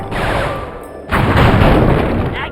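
Fireworks launched at targets in the video game Sly 3, heard as a dense, continuous crackling barrage of pops and bursts that swells louder halfway through and keeps going without any talk.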